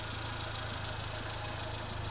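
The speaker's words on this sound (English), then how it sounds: "it's actually a pretty noisy slash low frequency exhaust" A 1993 Suzuki Jimny Sierra Wide with a 1300cc engine and an aftermarket exhaust idles close by, giving a constant low, throbbing drone that stays even from start to finish.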